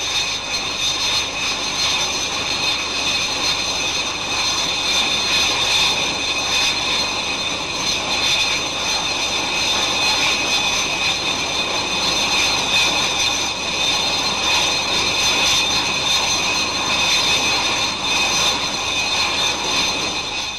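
Blackburn Buccaneer jets drop down for a low-level run, giving a continuous loud roar of jet engines with a steady high whine, sustained and unchanging throughout, with no voices.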